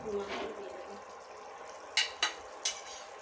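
Spice paste for mustard hilsa fries in a pan, a soft sizzling bed with scraping strokes, then three sharp metallic taps of a spoon against the pan in quick succession.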